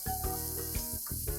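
Chana cutlet mixture sautéing in a hot pan, a soft sizzle broken by several rhythmic scraping stirs of a spoon against the pan, close and moderately quiet.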